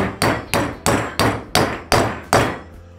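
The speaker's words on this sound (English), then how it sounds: "Then with our mechanical hammer, we pound it in." A mechanical hammer drives a UCAN wedge anchor into a hole drilled in concrete, with seven sharp, loud metallic strikes at a steady rhythm, each blow ringing briefly before the next.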